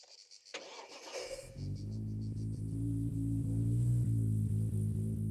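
An engine cranks briefly after a few clicks, then catches and settles into a steady low idle rumble, fairly quiet and nearby.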